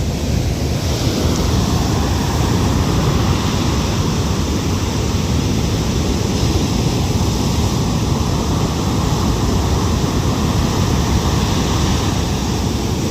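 Rough sea surf pounding a shoreline at dusk, a continuous loud roar of breaking waves mixed with wind buffeting the microphone, no voices.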